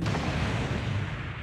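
Artillery fire in the video game MechWarrior Online, heard as a loud, dense rumbling boom that fills the short stretch with sustained low blast noise and no talking over it.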